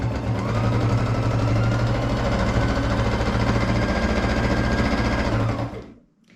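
A Baby Lock Jazz II sewing machine running steadily during free-motion quilting through layered fabric, a loud, fast, continuous mechanical chatter that stops abruptly near the end.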